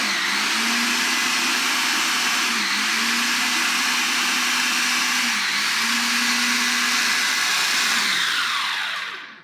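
A blender runs on apple cinnamon cake batter in steady, loud whirring stretches broken by three brief dips in motor pitch, then spins down and stops at the end, with no talk.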